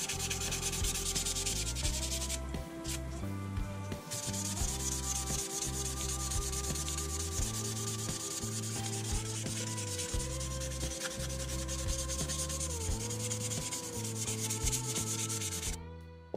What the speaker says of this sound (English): I could move on to sanding it smooth with some sanding sticks